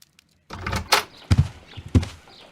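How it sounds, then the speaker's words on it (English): In the Sherlock Holmes: Crimes and Punishments game, a front door opens with a short series of wooden clunks and thumps, three heavier knocks standing out after a brief silence. "No, I just heard the front door."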